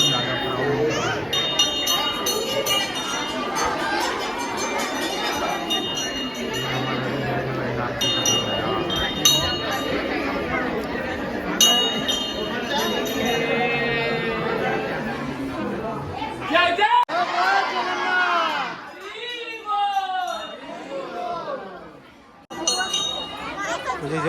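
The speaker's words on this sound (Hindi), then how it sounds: "एकदम ज़्यादा क्राउड" A large crowd mills inside the Jagannath temple during the Rath Yatra in Raipur, dense overlapping chatter with ringing bells and metallic clinks, loud and close, while a person talks over the din.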